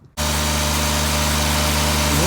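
A lawn tractor engine, likely the 1967 Cub Cadet 125 or the donor tractor used for the jump start, kicks in abruptly and runs loud and close at a steady idle, a continuous throbbing drone with no talk.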